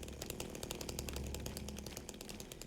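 A chainsaw in the video game Silent Hill 2 buzzes and rattles continuously with a rough, pulsing motor texture, moderately loud throughout the short stretch, without any speech.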